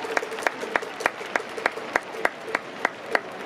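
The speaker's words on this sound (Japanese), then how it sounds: "皆さんどうぞ温かい拍手でお迎えください。" Applause from the crowd at a baseball game welcoming the ceremonial first pitch, a steady spread of clapping with a few sharp, regularly spaced claps standing out nearby.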